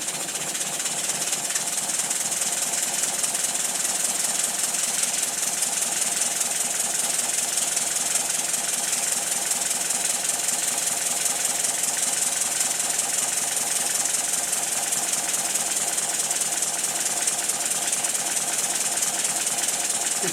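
A twin Tangye steam engine runs in a workshop, producing a loud continuous hiss with a rapid steady chuffing rhythm underneath, unchanging from start to finish.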